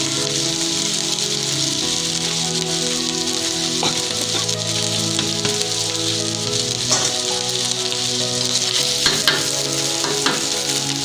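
Basmati rice stir-fried in white oil with soy sauce sizzles loudly and steadily, with frequent scraping and clicking of the stirring utensil against the pan, and no talking.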